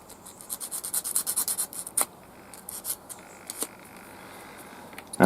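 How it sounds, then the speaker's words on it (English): A small double-sided emery board sands rough edges off laser-cut wooden hand crank generator kit pieces: quick, quiet rhythmic rasping strokes up close, then slower, scattered scrapes. "they have given us a little emery board, double-sided, just to clean up these bits"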